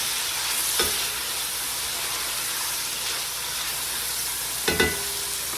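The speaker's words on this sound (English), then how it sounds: "So then you can add in your leeks. And let the leeks cook." Leeks cook in bacon fat for a Zuppa Toscana soup, giving a close, constant sizzling hiss with two louder stirring scrapes, one early and one near the end.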